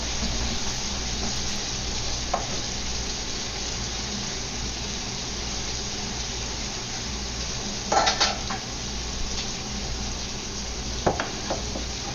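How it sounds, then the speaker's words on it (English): Beef stir-frying in a wok over high heat for a keto beef and green bean dish, a constant loud sizzle with occasional sharp clinks and scrapes of a utensil against the pan, no talking. "I'm going to add the beef first, cook that."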